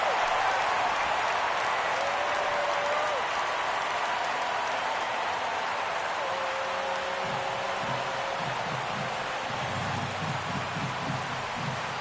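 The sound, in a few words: crowd cheering at a baseball game, from the video game MLB The Show 17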